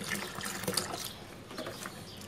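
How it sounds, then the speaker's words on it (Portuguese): Bleach poured into a small bucket holding a liter of water gives a steady, soft splashing and trickling of liquid, close and continuous, with no talking. "colocar um pouquinho de água sanitária"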